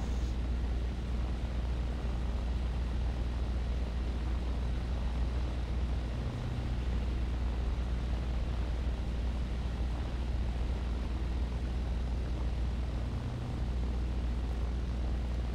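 Engines of a Short Sunderland flying boat in a flight video game, a steady droning hum held at moderate level throughout, with two faint low thumps, no voices.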